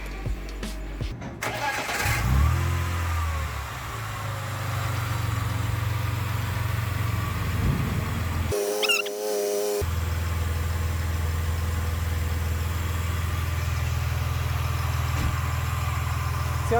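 A car engine with a misfire cranks and starts, then settles into a steady low idle; a brief cut interrupts it midway before the rough, even rumble resumes.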